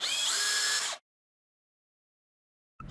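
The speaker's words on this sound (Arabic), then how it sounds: "نستعمل بنطة التخويش في" A power drill with a countersink bit whirs at high speed into wood for about a second and then stops abruptly, leaving silence before another short burst begins.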